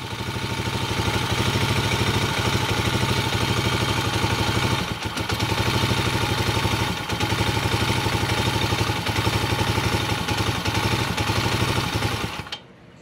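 A Skygo King 150cc motorcycle engine idles with a steady, rapid chugging putter, briefly dipping twice, then stumbles and dies out near the end, leaving near silence.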